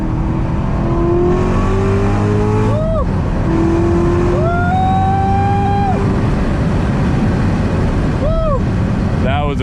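A manual Chevrolet Corvette C7 Z06 accelerates hard through the gears at night, its engine tone climbing in loud sweeping pulls broken by quick shift drops, heard from inside the car with occasional passenger chatter.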